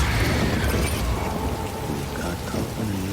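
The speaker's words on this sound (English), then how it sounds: "Good thing it was raining." Heavy rain pours continuously in the video game Death Stranding, with a rumbling low wash, steady and close, with no voices over it.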